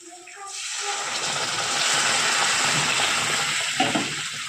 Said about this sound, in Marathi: आता आपण यामध्ये गरम पाणी टाकणार आहोत